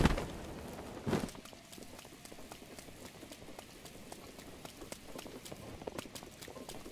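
Horse hooves clip-clopping across grassland in Zelda Breath of the Wild, a quiet, steady rhythmic patter of footfalls in the distance, with a soft thud near the start.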